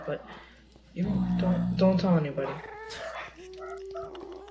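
Several dogs whimpering and barking in a home, a high whine and yips running under a person talking over game audio, fairly close and persistent through the clip.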